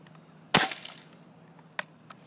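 Pump BB rifle firing once, a sharp close crack followed by a brief rattle and a couple of small clicks in a quiet outdoor setting.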